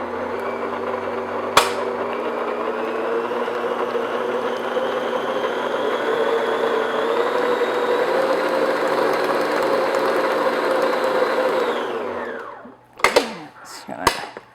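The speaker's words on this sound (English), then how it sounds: "now start your mixer on low speed when you're mixing this in so it doesn't come up in your face" An electric stand mixer runs on low speed through chocolate butter cake batter, a steady close whir with a faint rising tone for about twelve seconds before winding down, followed by a few clinks.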